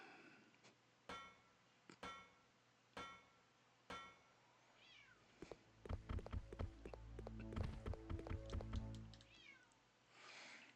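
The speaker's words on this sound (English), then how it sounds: "Oh, I can hear my cat meowing out of my door." A cat meows behind a door in a series of evenly spaced, muffled calls, then sharp taps and thumps build into a dense cluster before one more meow.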